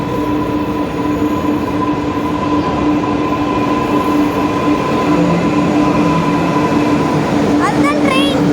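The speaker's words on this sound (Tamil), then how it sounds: "Next train to Central Metro is arriving on platform 2." Steady rumble of a metro train arriving at a platform, with a constant electrical hum and a brief wheel squeal near the end; voices murmur faintly underneath.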